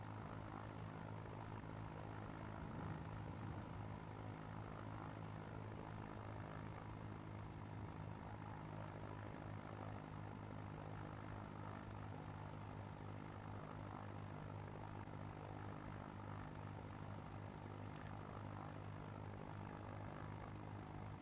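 A Potez 25 biplane's propeller engine holds a steady drone at 1700 rpm, a continuous even hum with no voices over it.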